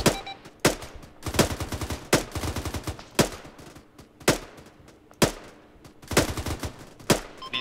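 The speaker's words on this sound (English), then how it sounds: "I have eyes on Ruskies taking fire off at the castle walls." Bursts of automatic gunfire from Russian soldiers firing at castle walls in ARMA 3, rapid rattling volleys broken by short pauses, loud and close with no talk over them.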